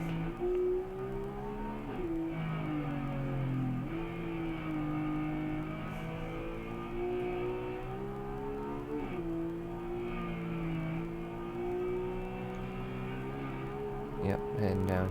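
A Porsche 911 GT3 RS engine drives the Nürburgring, steady high-revving drone with several gear-change dips and climbs, loud and continuous, a voice faintly underneath.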